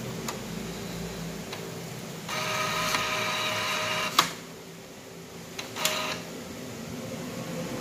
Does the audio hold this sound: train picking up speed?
no